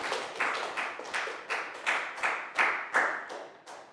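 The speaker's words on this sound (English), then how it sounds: "And a big round of applause for everybody." A class of schoolchildren claps in a steady, evenly spaced beat, around nine soft claps over a few seconds, close but quiet with no talking.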